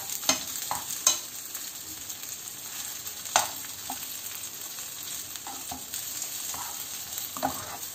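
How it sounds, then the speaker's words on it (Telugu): Leftover idli pieces fry in a pan over medium flame, a quiet steady sizzle broken by scattered scraping clicks as a spatula turns them. "ఇలా అన్నీ మనము లైట్ బ్రౌన్ కలర్లో వచ్చే వరకు కూడా లైట్గా ఫ్రై చేసుకుంటూ ఇలా టర్న్ చేసుకుంటూ ఫ్రై చేసుకోవాలి"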